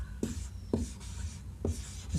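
Chalk on a board writing out the word geography, in four quick scratchy strokes with short pauses between them, heard close and clear without talk.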